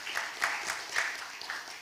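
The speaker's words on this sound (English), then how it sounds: "Please give all our teachers and students a round of applause." Applause from the audience at a primary school elocution competition final, a short burst of scattered clapping at moderate volume with a few louder claps standing out.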